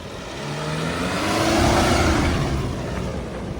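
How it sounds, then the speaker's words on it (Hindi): An MG Majestor SUV climbs an off-road trail in hot, dusty conditions, its engine revving up in a steady swell that peaks midway and eases off, heard close and alone. "भाई क्या आवाज करती है गाड़ी"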